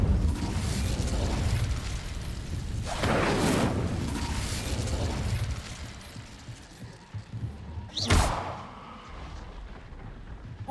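Incendio fire spell cast in a video game, a rumbling whooshing burst of flame that swells twice, then a sharp crack and a fiery roar near the end, loud and close, no talk.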